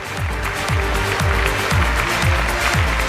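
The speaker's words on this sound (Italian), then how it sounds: "Grazie alle ragazze con un grosso applauso." Audience applause for the girls at a Miss Sicilia beauty pageant in Ispica, a steady, loud wash of many hands clapping throughout, with a low pulsing music beat underneath.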